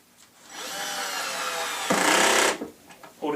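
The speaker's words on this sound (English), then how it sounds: "if you get it just right, it's got what's called a ratchet" A ratcheting screwdriver or power driver drives screws into a lazy susan base, giving a sustained whirring buzz that swells, then a louder burst before stopping, close by.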